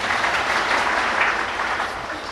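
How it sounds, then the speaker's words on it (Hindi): Dense, steady applause from an audience at a spiritual meditation gathering, broad and sustained throughout with no voices standing out. "तालियां हम लोग बजा लेते हैं,"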